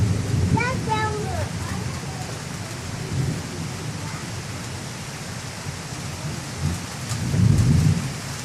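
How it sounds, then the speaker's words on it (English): Thunder rumbles through a heavy Canadian rainstorm: steady rain hisses throughout, a rolling peal near the start and a deeper, louder rumble toward the end, with faint voices nearby. "And then thunder should be hitting any minute now."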